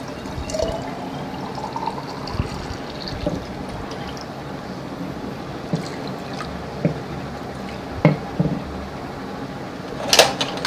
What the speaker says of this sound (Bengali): নতুন করে আবার পানি দিয়ে দিই